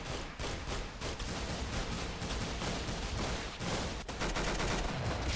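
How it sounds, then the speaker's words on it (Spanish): Rapid gunfire rattles in the Roblox-style shooter game Arsenal, dense overlapping shots and automatic bursts firing almost continuously, loud and close with no speech over it. "todos los tiros están atravesando a la gente y nadie muere"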